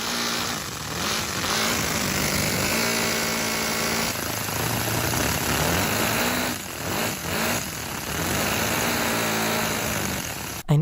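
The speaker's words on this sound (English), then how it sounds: "One of my subscribers made an engine out of Legos." A small engine built from Lego bricks runs continuously with a busy, rattling, rhythmic chugging that holds a fairly even level for about ten seconds.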